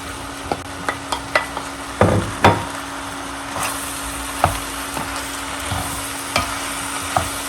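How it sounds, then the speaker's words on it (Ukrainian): Vegetables, meat and tomatoes for bograch goulash fry in a pan with a steady sizzle, as a utensil stirs and knocks against it in scattered clacks. "Коли овочі обсмажились, додаю сюди, повертаю сюди м'ясо, додаю помідори"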